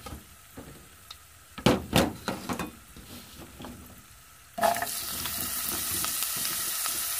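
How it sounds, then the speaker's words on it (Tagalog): Squash (kalabasa) sautéed in a pan, with a few clanks and stirring knocks at first, then a loud, steady sizzle filling the rest. "Sinagas po yung kalabasa."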